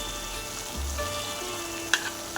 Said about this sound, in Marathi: हे अमूलचं बटर आहे तर मी एक चमचा बटर टाकते